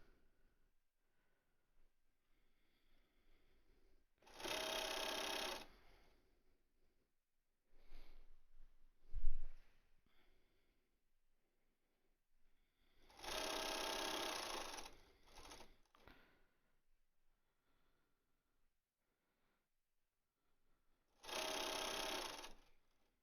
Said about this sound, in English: Okay, so I'm gonna back stitch. I'm in that corner of the mask again.